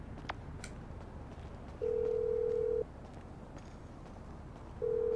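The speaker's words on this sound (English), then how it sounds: "Whoa, who changed my ringtone?" A phone ringtone in Grand Theft Auto V plays as two steady, sustained electronic tones, each lasting about a second and separated by a gap, over a low, continuous in-game background rumble.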